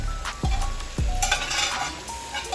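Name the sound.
saltfish frying and stirred in a pan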